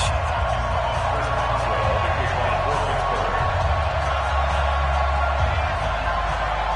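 A stadium crowd roars steadily in an EA Sports football video game, Pittsburgh Steelers against Cleveland Browns, a loud continuous wash of crowd noise under a play-by-play announcer's voice.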